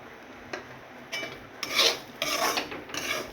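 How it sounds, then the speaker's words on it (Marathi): A spoon stirs and scrapes semolina roasting in ghee in a pan for rava barfi, making close, gritty rasping strokes in irregular bursts over a soft background hiss. "छान असं मिक्स करून घ्यायचं आणि हलवत हलवत भाजून घ्यायचं"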